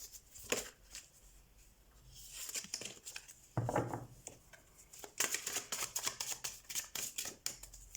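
Tarot cards shuffled by hand, a run of quick papery riffles and flicks in bursts with brief pauses, close and fairly soft, no talking.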